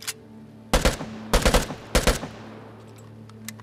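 Video game gunfire in Vigor on Nintendo Switch comes as three short, loud bursts of rapid shots spaced about half a second apart over a low steady hum, with a faint tail afterward.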